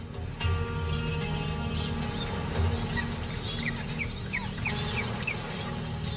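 A penguin colony at its nesting site sends up a dense, steady din of overlapping calls, with repeated chirps and squawks over a constant noisy background.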